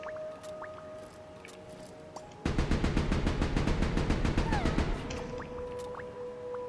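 Rapid automatic gunfire from the video game Ship of Fools, a fast, even burst of shots lasting a few seconds, loud and close over steady game music.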